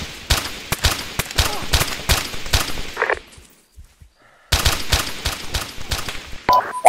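Rapid bursts of gunfire from the ARMA 2 combat game crack out close and sharp in quick rhythmic volleys, pause briefly into near silence, then resume in a fresh string of shots.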